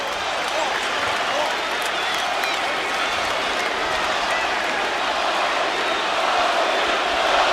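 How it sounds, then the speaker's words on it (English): A dense arena crowd at a Lakers basketball game roars steadily through the whole stretch, with massed voices and a chant-like swell rising toward the end, loud and continuous. "Crowd chanting Kobe."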